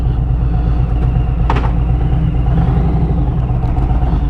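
A motorcycle engine runs steadily on a Tucson road as the rider sets off, with a low continuous rumble and wind noise and a brief clatter partway through.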